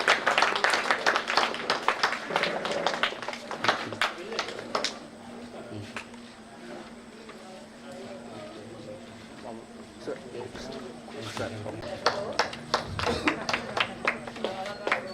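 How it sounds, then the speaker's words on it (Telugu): An audience claps at a Telugu one-act play competition, with bursts of sharp scattered claps at the start and near the end and a quieter stretch between, while a person talks over them. "గట్టిగా క్లాప్స్ కొట్టండి."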